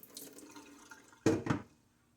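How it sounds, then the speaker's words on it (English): Whey poured off microwaved mozzarella curds, a faint trickle followed by two short splashing gushes of liquid into a sink, close and brief. "it released even more whey. So I'm going to pour that off."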